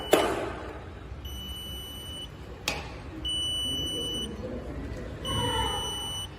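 A high electronic beep from an active buzzer sounds on and off in roughly one-second tones, separated by pauses, over faint background noise and a couple of clicks.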